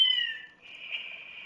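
A cat, apparently a kitten, gives one drawn-out, high, wavering meow that fades and then rises again, close and clear, with no talk.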